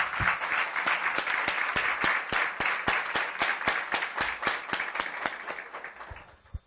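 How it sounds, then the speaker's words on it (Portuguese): A church congregation claps in a steady, rhythmic unison beat, loud and even for several seconds before fading out near the end. "Vamos dar uma salva de palmas para o nosso Deus?"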